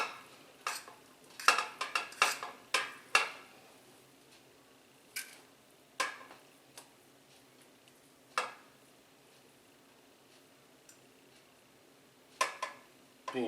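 A metal utensil scrapes and clacks against a skillet of chilli in irregular sharp knocks, clustered early and then spaced out, with quiet gaps between.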